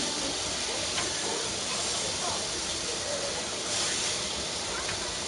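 Chicken frying in a pan inside a cooking video game, giving a steady, broadband sizzle that holds throughout at an even level, with faint speech-like murmurs sitting underneath.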